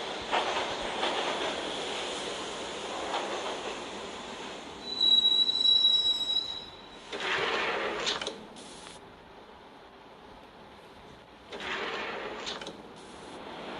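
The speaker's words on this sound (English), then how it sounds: "the train doors had already shut behind me. And I was in for the ride" A Max Payne subway ride heard from inside the car as metal wheels squeal and rumble along the rails, with sharp high screeches and swells that rise and fade over a constant low drone.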